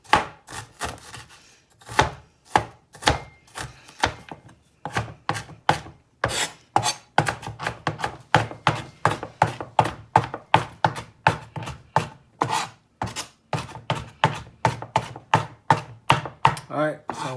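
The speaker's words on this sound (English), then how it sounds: "So what you want to do is chop it as small as possible and mince it like this." Knife mincing fresh ginger on a cutting board for salt and pepper shrimp: rapid, steady rhythmic chopping taps, close and fairly loud, continuing throughout with brief pauses, no talking.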